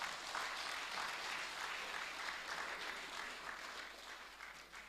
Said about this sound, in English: Oh, I thought you were going to clap to that.